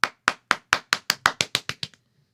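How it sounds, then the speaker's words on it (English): Eleven sharp, evenly spaced claps from a podcast soundboard effect, loud and dry, each a crisp burst that decays quickly, played alone with no talk. "Hey, clap. I need claps."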